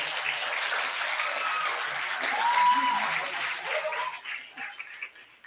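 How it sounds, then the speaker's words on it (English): Applause from an audience at an eighth grade middle school graduation ceremony, a steady sustained clapping crowd that fades out toward the end. "So give them a round of applause again."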